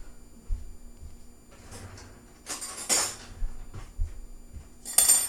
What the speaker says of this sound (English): I'm just going to get a fork.